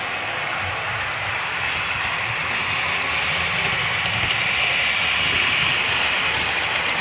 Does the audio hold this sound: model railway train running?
yes